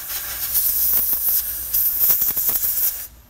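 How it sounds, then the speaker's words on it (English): Compressed air blasts in a loud, steady hiss to blow a metal tap clean while repairing stripped threads, then cuts off abruptly. "Now I'm gonna clean off the tap a little bit with some compressed air."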